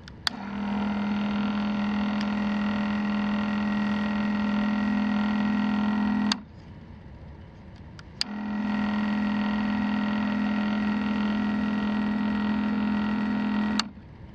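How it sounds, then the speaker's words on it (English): Kobalt 24V MAX chemical sprayer, model KSP 1124A-03, with its pump running on an empty tank: a steady electric hum with a strong low drone, running about six seconds, cutting off for two, then running again. "with no liquid to pump out and you turn the handle on, you'll just keep hearing the pump"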